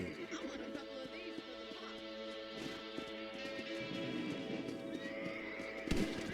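A horse in the Red Dead Redemption video game whinnies amid hoof clip-clops, faint and somewhat distant, layered over a steady game soundscape with no talking.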